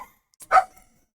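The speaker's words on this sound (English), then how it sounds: "I don't know if you can hear my dogs in the background." A single dog bark sounds faintly in the background, preceded by a brief yip, in an otherwise quiet room.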